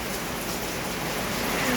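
Steady rain falls over a rice field, a dense, even wash of close rainfall with no breaks.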